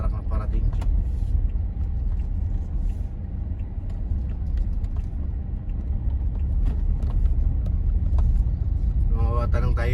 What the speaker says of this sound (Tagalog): Meron palang truck na parating